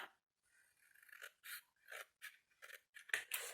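Scissors snip through paper or card while a perpetual calendar is made by hand, a series of close, quiet, separate cuts with short pauses between them.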